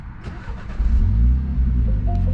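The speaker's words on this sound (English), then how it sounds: "So now when I get in the car and I start it" MINI car engine starting from inside the cabin, a brief starter crank swelling into a loud, low idle rumble that settles and holds steady, close by.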